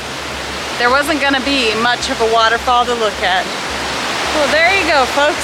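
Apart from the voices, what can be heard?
Multnomah Falls waterfall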